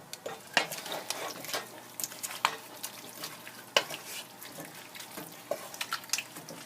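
Butternut squash soup simmering in a pot on low heat gives a steady wet hiss, broken by sharp clinks and scrapes from stirring that come close and fairly loud.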